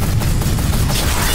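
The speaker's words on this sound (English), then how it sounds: "Point blank shotgun!" Shotgun fire in the video game Spider Tanks, a dense, loud burst of blasts filling the whole moment with no gaps, close and overwhelming, with no voices.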